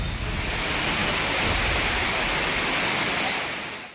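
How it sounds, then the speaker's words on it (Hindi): Floodwater rushing after continuous heavy overnight rain, a loud, dense, steady roar of churning water with no break, fading out only at the very end. "जिधर देखिए उधर ही कहर बरपाती हुई तूफानी धारा बहती जा रही है"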